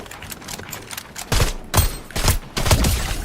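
Hog weapon fire in a PS5 shooter game, several loud sharp bursts of shots spaced about half a second apart over a steady game background, with no voices.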